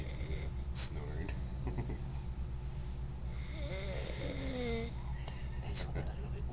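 Low, rumbling snoring from a man, repeated in slow rasping breaths at moderate distance, with a voice talking quietly over it.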